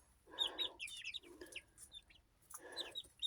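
Young chickens cluck and chirp in short bursts, close by, while being hand-fed, with three clusters of soft calls and brief pauses between.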